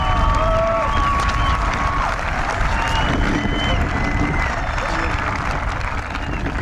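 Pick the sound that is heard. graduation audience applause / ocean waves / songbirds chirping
graduation audience applause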